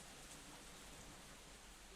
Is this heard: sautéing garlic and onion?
no